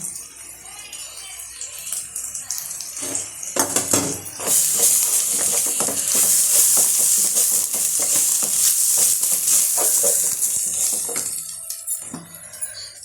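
Garam masala and chicken masala sizzle and fry in a pan for home-style liver varuval, a loud steady hiss with stirring scrapes and clinks of a utensil against the pan, no talking.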